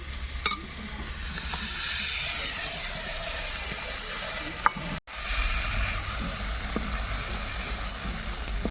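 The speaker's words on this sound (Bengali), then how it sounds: "মাছগুলোকে আমি সুন্দরভাবে ভেজে নিয়েছি এবার তুলে নেব" Shrimp frying in hot oil in a pan make a continuous close crackling sizzle, with a few sharp utensil clicks and a short break partway through.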